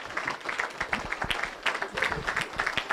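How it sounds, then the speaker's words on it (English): Audience applause at a speedway awards banquet, a moderately faint patter of many hands with distinct individual claps standing out and a voice or two mixed in, lasting about three seconds. "let's give Henry Junker a big round of applause."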